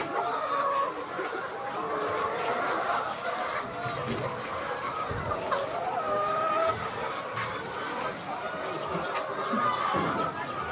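A dense flock of egg-laying hens clucks and chatters continuously at close range on a layer farm in Oriental Mindoro, with overlapping calls and a person talking faintly underneath.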